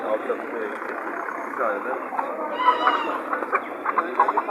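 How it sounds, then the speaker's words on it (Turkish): Chickens and roosters clucking and squawking amid a busy crowd at a poultry market in Dörtyol, Hatay, Turkey, with people chattering and the birds' calls rising over the noisy market hubbub. "Burada horozlarımız var."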